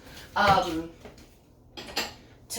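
A bowl or mug is pulled from the kitchenware in a home kitchen, producing a short ceramic clatter followed moments later by a lighter clink, close by and with a person talking.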